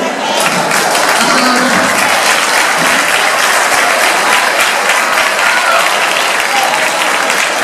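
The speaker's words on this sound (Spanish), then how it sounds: "Muy bien, un aplauso." Loud applause at an awards ceremony in Cangas del Narcea as a diploma recipient comes up, a dense continuous clapping from a big crowd with a few faint voices mixed in.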